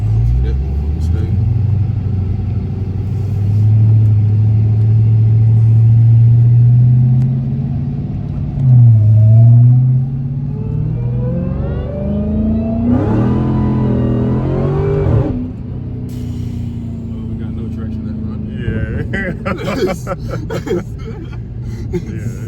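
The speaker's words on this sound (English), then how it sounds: "Kick tires out for sure. Yeah, we got no traction on that pull." A Dodge Hellcat Redeye accelerates hard with its tires losing traction, a loud sustained engine roar with rising revs and a shift, heard from inside the car and followed by people talking.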